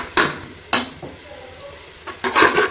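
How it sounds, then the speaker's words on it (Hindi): Tomatoes and green chillies with spices being fried and stirred in a pan for a bottle gourd karahi, with three bursts of scraping and sizzling separated by a quieter simmer. "टमाटर और हरी मिर्च डालने के बाद अब हम इसको अच्छे से और भून लेंगे।"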